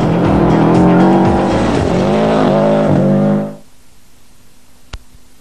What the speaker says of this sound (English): drive a factory-built four-wheel drive turbocharged rally car